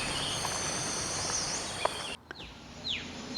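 Steady cricket chirring fills the background outdoors on a morning at Khao Yai, Thailand, with a few brief bird calls and a short sharp sound breaking through near the end.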